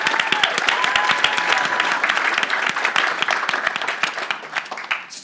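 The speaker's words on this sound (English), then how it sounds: "So, round of applause." Admitted students and panel attendees break into steady, full applause in a hall, many hands clapping loudly and evenly before tapering off near the end.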